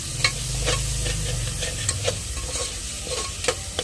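Chicken is stirred into a yogurt masala in a pan. Loud, close spoon scrapes and clacks repeat over a constant frying sizzle, with no voices.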